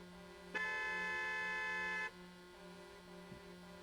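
One long truck horn blast of about a second and a half in Euro Truck Simulator 2, sounding moderately loud over a low steady hum, then the quiet hum continues alone.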